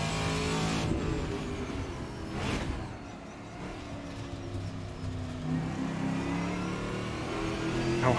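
A Trans Am's engine revs steadily in the racing game Assetto Corsa, a sustained mid-pitched drone that climbs and falls in pitch, loud and continuous with no voices over it.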